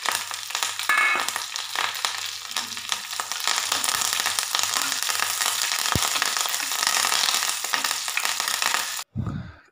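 Onions, dried red chilies and curry leaves frying in a pan, a loud, dense sizzle and crackle that runs steadily for several seconds before cutting off abruptly near the end, with no voices.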